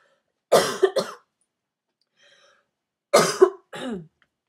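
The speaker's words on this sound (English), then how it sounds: "I have to cough." Two short bursts of coughing, each a quick double cough, close to the microphone with a quiet pause between them.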